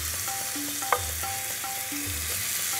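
Onions sizzle steadily in a hot pan for curry, a constant frying hiss with a few soft stirring clicks and a brief sharp clink near the middle, no voices.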